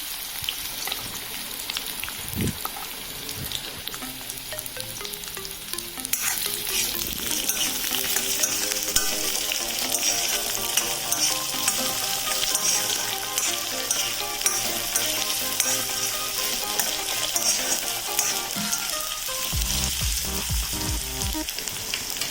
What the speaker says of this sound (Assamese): এইখিনি এতিয়া মই ভালদৰে ভাজি আছোঁ